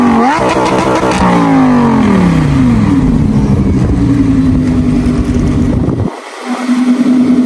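A Lamborghini Huracan engine revs up hard and close, its pitch climbing and falling through several sweeps before settling, cutting out briefly, then returning to a steady high-revving drone.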